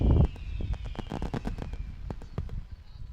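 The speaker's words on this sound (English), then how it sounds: "We'll still give her fireworks." A fireworks sound effect played over the speakers at a varsity softball game, with a dense run of crackling pops and sharp bangs following a louder opening burst.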